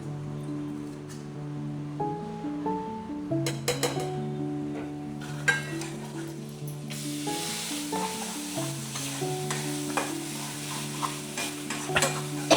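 Spices sizzle and fry in a few spoonfuls of hot oil in a pan for mutton sukka, a steady crackling hiss with intermittent stirring and scraping throughout, close and clear with no talking.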